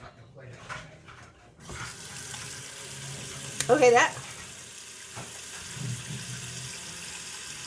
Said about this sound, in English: let me put some hot water in that pan